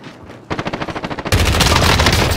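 Gunfire in a battle royale video game: a rapid burst of automatic shots in quick rhythm, then a denser, louder barrage of overlapping fire, close and intense.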